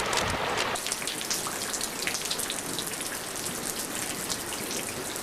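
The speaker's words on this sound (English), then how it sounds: "but it's still raining out here." Steady rain falls outdoors in a monsoon season storm, a dense, even hiss of drops pattering on surfaces that continues unbroken from start to finish with no voices.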